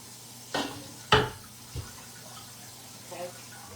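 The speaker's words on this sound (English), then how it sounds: "Rinse this out." Water from a kitchen tap rinses out a container while barbecue sauce is being made, with a few short splashy bursts and clatters against the sink under a quiet background.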